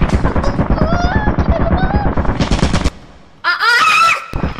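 Turret gunfire in Lethal Company: a loud, rapid mechanical burst of shots, a brief pause, then another short loud burst, with excited voices shouting over it.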